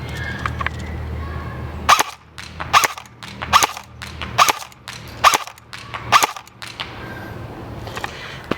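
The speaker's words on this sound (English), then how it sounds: "I might do full auto, but we're just going to stick with semi-auto for the shorter distances." A Dboys AMD-65 airsoft rifle fires six sharp semi-auto shots at targets, spaced roughly evenly about a second apart over faint outdoor background noise.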